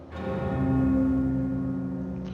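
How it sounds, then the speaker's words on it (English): A bell rings out in the video game Jade Empire, one sustained metallic strike with a steady harmonic tone that lingers and slowly fades, heard alone. "Sky better have a good reason for ringing that bell."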